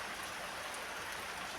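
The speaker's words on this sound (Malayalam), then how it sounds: "നല്ല മഴയുണ്ട് ഇവിടെ" Rain falls steadily on a rural Kerala homestead, a dense, even hiss of drops with no break and no voices; no thunder stands out.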